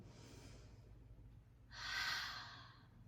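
Quiet, close breathing returning to a normal pace after a 4-7-8 breathing exercise, with a soft breath followed by a louder airy exhale.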